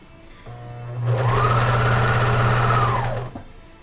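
Up close, a sewing machine stitches the hood onto a dog jacket, its motor whirring in one continuous run of about two seconds before stopping.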